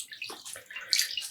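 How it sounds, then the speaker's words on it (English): Water from hand-dyed yarn squeezed out into a pan splashes and trickles briefly, close and moderately loud, in a short burst of dripping and pouring. "I'll be squeezing out some of the water from the pan,"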